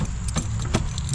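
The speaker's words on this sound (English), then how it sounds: "So I have this ring of keys." A ring of keys jangles close by in a brief, bright metallic rattle, with quick chiming clinks and no voices.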